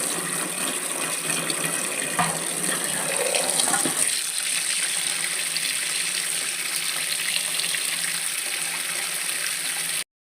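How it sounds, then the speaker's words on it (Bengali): Tap water runs steadily over sandy potatoes being washed in a sink, a continuous close gush with splashing shifts as the potatoes are rubbed and turned. "এখনও আলুতে তো অনেক বালি ভালো করে না ধুলে খেতে পারবো না"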